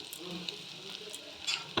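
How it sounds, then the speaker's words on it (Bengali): Chopped onions fry in a pan with a soft, steady sizzle and a few light stirring scrapes. The sound is quiet and close. "এবার পেঁয়াজটা আমি ভালো করে ভেজে নেব।"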